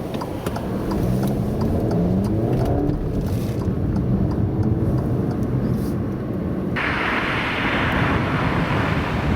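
An Alfa Romeo Giulia 2.0 Super drives along with a steady engine drone mixed with rushing wind and road roar, loud and continuous, with a shift in the tone partway through.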